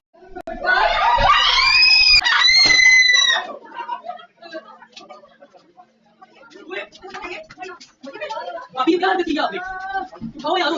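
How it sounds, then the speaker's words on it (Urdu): Frantic screaming and shouting from a domestic incident in which a wife was thrown from a rooftop, with loud shrill cries early on, then agitated voices and further wailing, people shouting over one another. "ویڈیو میں چیخ و پکار آپ نے سنی"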